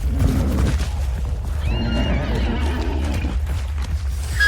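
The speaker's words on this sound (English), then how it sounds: "Sorry horse, but it had to be done." A horse in the video game Hunt: Showdown gives a clear, drawn-out whinny partway through, over a constant low rumble of in-game ambience with no talking.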